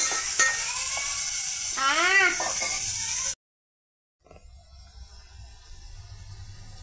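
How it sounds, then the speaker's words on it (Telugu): Sliced onions, green chilies and chana dal fry in hot oil with a steady, hissing sizzle while a voice briefly speaks over it. The sound cuts out for a moment, then returns as a quieter sizzle. "ఆయిల్లో పెద్దల్లిపాయలు, పచ్చిమిర్చి, పచ్చిపప్పు ఫ్రై అవుతున్నాయండి"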